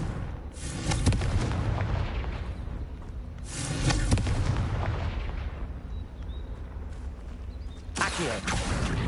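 A fiery Confringo blast spell goes off in the Hogwarts Legacy video game as three loud, booming bursts, each trailing into a rumbling roar, with a lower continuous din between them.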